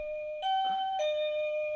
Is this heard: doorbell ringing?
yes